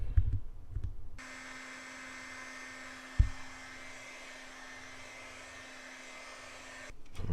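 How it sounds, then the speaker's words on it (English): Heat gun blowing a steady, even whoosh with a faint motor hum as it warms headlight protection film on a car, close up, running for several seconds, with a brief knock partway through and handling noise at the start and end. "I'm just gonna heat up the film to get it soft enough to where I can"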